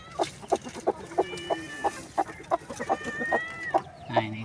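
A silkie hen brooding on her eggs gives a steady run of short, soft clucks in an even rhythm, close by, with a few longer drawn-out tones in between.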